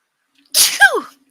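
A single sharp sneeze, loud and close, starting with a breathy intake and ending in a falling vocal burst, with silence around it.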